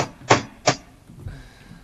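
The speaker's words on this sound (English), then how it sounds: "This is the sound of me walking to my window." Two loud, heavy footsteps thud on the floor in quick succession while walking toward a window, close by, followed by faint shuffling and quiet.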